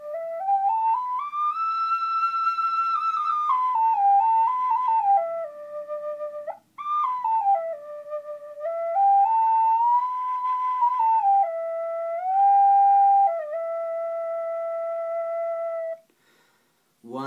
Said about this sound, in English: this is the Choroi flute that Waldorf children begin in the first and second grades